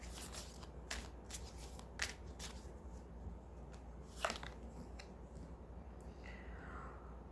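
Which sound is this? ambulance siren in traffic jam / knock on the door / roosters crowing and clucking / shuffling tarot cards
shuffling tarot cards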